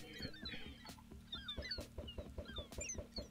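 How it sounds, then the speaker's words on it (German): Several chickens cluck repeatedly in Minecraft, with short overlapping clucks and squawks in an irregular, busy rhythm and a steady low hum underneath; no one talks. "dann mache ich mal ein paar Hühner hier weg, weil das sind so viele"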